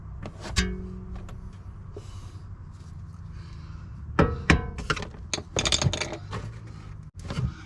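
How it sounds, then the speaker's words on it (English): Sharp metallic taps and knocks near at hand as a BMW E60 front lower arm is driven downward out of its mount, several uneven strikes with pauses between them. "Now it should slide out from the bottom, so you can tap it downwards"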